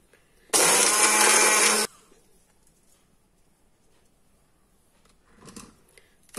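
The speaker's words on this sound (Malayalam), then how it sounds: "ഇനി ഇത് നമുക്ക് അരയ്ക്കാം" A countertop blender grinding tahini sauce ingredients with garlic and salt roars loudly and steadily for just over a second, then cuts off abruptly to near quiet with faint background sounds.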